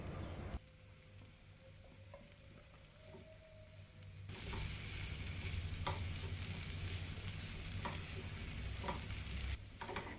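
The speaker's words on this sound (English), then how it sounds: "Mix the potato well with the spices." Boiled potatoes tossed with spices in a hot pan for Indian samosa filling, a steady sizzle with stirring scrapes that grows louder and fuller partway through, no voices.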